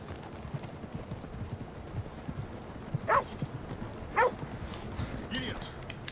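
Horse hooves clip-clop in a video game, with a few sharper footfalls standing out over a busy background of ambient game sound.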